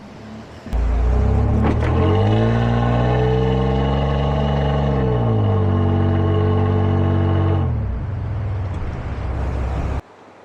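A heavy truck engine in reverse revs up hard, its pitch rising and holding in a loud, close drone for several seconds before dropping back and cutting off near the end.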